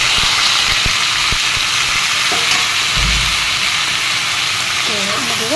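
Chopped vegetables for a healthy Indian vegetable curry fry in oil, giving a loud continuous sizzle broken by a few sharp clacks of stirring, with a voice speaking briefly.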